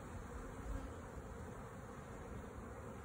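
Honeybees swarm over a queen cage inside a dark hive, a dense continuous buzz of many insects, steady and close, with no voices.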